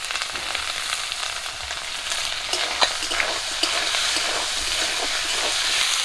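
Cumin paste, ginger and garlic fry with potatoes in a pan, sizzling close up. Sharp scraping clicks of stirring break in repeatedly, getting busier toward the end.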